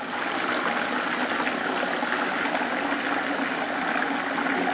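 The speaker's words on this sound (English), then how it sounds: "We're going to go ahead and dump this wort." Hot beer wort for a Klingon bloodwine brew pours through a strainer into a gallon of water in a fermenter, a steady close gushing stream that runs on without pause.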